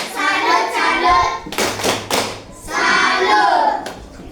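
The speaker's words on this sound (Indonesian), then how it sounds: "Tepuk salut untuk dari kelompok 1" A school class performs a rhythmic clapping routine, with short bursts of claps separated by children chanting together between the beats.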